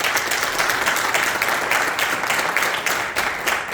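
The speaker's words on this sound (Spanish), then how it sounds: "Denle un aplauso a Dios." A congregation at a Spanish-language church service claps for God, giving steady, dense applause that carries on without a break for a few seconds.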